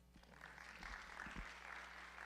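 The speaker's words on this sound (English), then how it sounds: "Let's give him a round of applause." Soft, distant applause from a community town hall audience, a faint steady patter of clapping over low background hum with a few muffled thumps.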